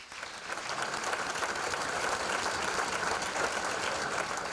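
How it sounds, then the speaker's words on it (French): A gala audience gives steady, dense applause, many hands clapping together at moderate volume for several seconds, with no break and no clear voices. "oui, vous pouvez l'applaudir"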